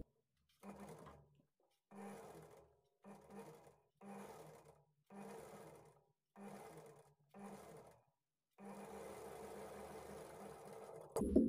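A sewing machine stitches blouse sleeves at a half-inch margin, running in seven short even bursts separated by brief pauses, then one longer continuous run, close and clear with no talk.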